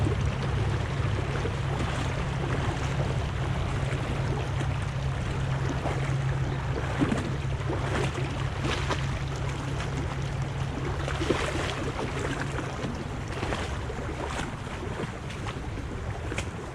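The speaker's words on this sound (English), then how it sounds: "The creek is actually flowing through all these grass, all these weeds too." A creek flows through grass and weeds, giving a steady, close wash of rushing water that runs the whole time, with wind buffeting the microphone throughout.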